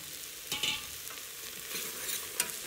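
Peeled ridge gourd pieces stirred into a masala frying in a pan, a soft continuous sizzle broken by several scraping stirs of a spoon.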